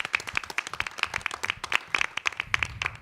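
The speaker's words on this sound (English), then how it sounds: "a round of applause for all of them" A crowd at a school board meeting gives a brief round of applause, dense overlapping claps continuing steadily for a few seconds.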